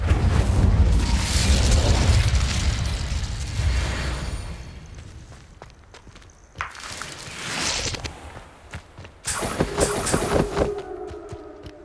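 Incendio fire spell blasts in the video game Hogwarts Legacy: whooshing fiery bursts with deep booming rumbles, one long surge at the start and sharper blasts later, with no talk over them.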